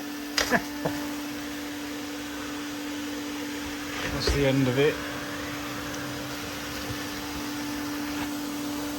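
Vacuum hoovering honey bees out of a hive during a bee removal, a steady machine drone running throughout with a short louder burst midway, while a person talks briefly over it.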